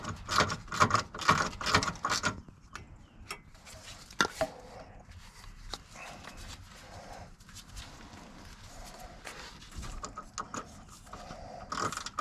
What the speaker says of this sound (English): Alright, got my little socket. I'm going to try to spin this backwards.